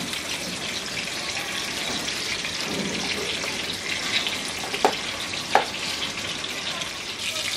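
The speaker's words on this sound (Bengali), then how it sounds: "এখন এই বাকি মাছগুলো দিয়ে আমি ভেজে নিব।" Pieces of rui fish fry in hot oil in a pan, giving a steady, dense crackling sizzle that holds for the whole stretch, close and moderately loud, with a couple of faint clicks and no talking.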